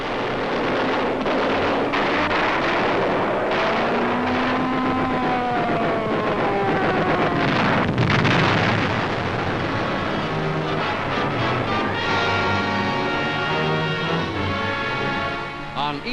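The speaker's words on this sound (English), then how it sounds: "U.S. forces assaulted the island of Okinawa. First, the bombardment." Archival wartime footage of the 1945 artillery bombardment of Okinawa, heavy rumbling blasts and booms under a loud orchestral score that dominates throughout.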